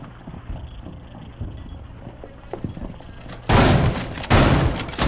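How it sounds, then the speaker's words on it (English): Shotgun fire in Rainbow Six Siege: quiet in-game ambience and faint footsteps, then two heavy, loud blasts in close succession near the end, each with a long booming tail. "Someone with a shotgun."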